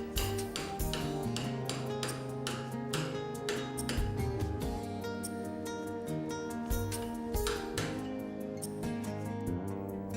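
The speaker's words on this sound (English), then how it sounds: "Tap the upper bearing case uniformly using a plastic hammer." A plastic hammer taps the upper bearing case of a ship's purifier during an overhaul, a long run of rapid, sharp, close taps with a few short pauses over a steady background hum.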